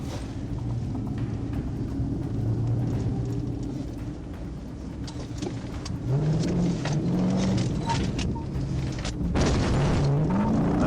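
A car accelerates hard during a high-speed police chase, its engine a loud continuous drone that rises in pitch through several upward sweeps, with wind and road roar throughout and no talking.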